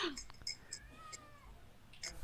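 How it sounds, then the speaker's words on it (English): A cat gives a single drawn-out meow in the middle, close but fairly soft, surrounded by quiet clicks and small household noises. "Is that the cat?"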